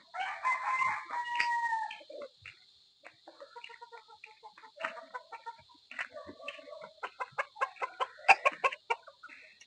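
Golden boy sweater gamefowl in a poultry yard, with a rooster crowing up close followed by a long series of scattered clucks and short calls from several birds.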